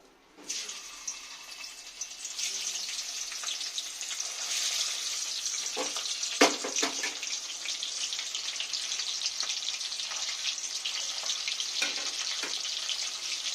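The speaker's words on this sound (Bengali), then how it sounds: "আমি সবগুলো মাছ এভাবে ভেজে সব তুলে নেব" Steady, bright sizzling of rupchanda (pomfret) fish, coated in salt and turmeric, frying in hot oil, with a few clinks and scrapes of a utensil against the pan.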